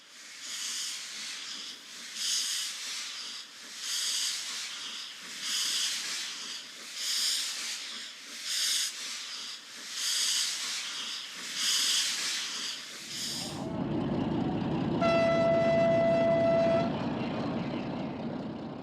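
Small steam locomotives at Lyon-Perrache station chuff in a steady rhythm of loud exhaust beats. Then a broad, continuous steam hiss takes over, and a clear whistle tone sounds briefly.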